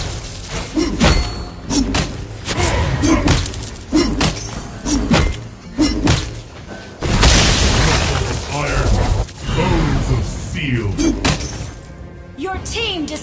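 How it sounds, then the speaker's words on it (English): Turret destroyed in a Mobile Legends match: a run of heavy thuds and booming impacts, with a shattering crash partway through, amid dense game effects and in-game voices. "Your team destroyed a turret!"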